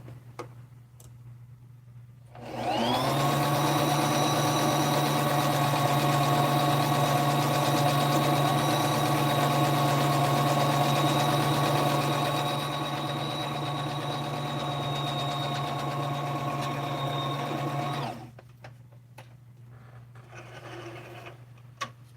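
A sewing machine runs a tight stitch through a doll's body in one continuous steady burst of about fifteen seconds, loud and close, with quiet handling before and after.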